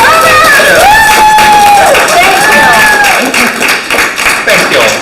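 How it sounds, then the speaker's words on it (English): Meetup audience clapping for a speaker on a marketing automation and AI night, loud close claps over a raised voice and overlapping talk, the applause thinning toward the end. "now we can clap."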